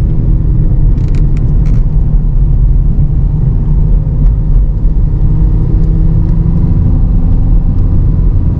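A second-generation Toyota Vios sedan accelerates to overtake on a steep mountain road near Cangar, Batu, giving a loud, continuous engine rumble and road roar heard from inside the cabin.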